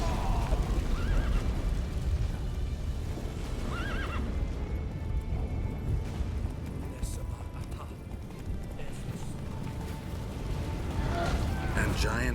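Horse neighing and galloping in The Witcher 3, a loud whinny over continuous pounding hooves close by, with rumbling battle ambience and voices speaking throughout.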